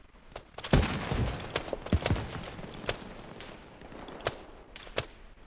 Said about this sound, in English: That's me firing.